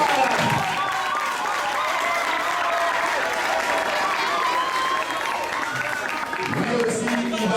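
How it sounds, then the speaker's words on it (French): An audience claps loudly for an introduced artist, a dense sustained wave of applause with some crowd voices and a faint speaking voice mixed in. "on va applaudir très fort pour un deuxième et notre grand ambassadeur de la jeunesse"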